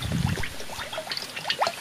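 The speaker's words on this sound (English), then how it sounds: "I'm going to pour the coconut oil into the frying pan" Coconut oil is poured into a frying pan for village-style cooking, giving a short, soft liquid trickle with light splashes close by.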